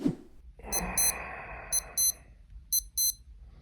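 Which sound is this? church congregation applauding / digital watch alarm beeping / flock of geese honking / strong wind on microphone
digital watch alarm beeping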